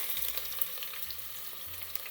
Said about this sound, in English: when the oil is getting hot, it's already hot, you put the onions in here.